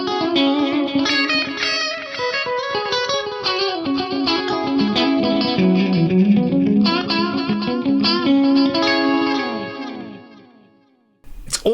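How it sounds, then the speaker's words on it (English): An electric guitar line runs through a delay effect, with the compressor input gain turned down so the echoes sit lower, giving dense repeating notes with chorus-like shimmer for about ten seconds before it cuts off. "if I want to bring those delays down, I can just kind of bring the input gain on the compressor down a little bit"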